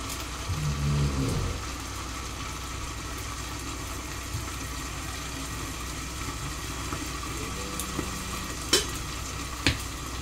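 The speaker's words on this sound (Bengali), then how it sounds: "আমি এটা 30 সেকেন্ডের জন্য একটু ফুটিয়ে নেব" Spices in a hot tempering for mutton kala bhuna, a Bangladeshi dish, sizzle steadily in a pan after a brief stir and a low clatter at the start, with a couple of sharp taps near the end.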